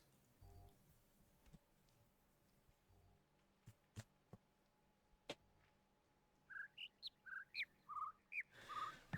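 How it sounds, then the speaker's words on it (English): Short chirping bird calls from a puzzle in The Witness video game repeat quickly in a cluster near the end, following scattered faint ticks in a quiet setting. "how about all three birds make a noise at the same time?"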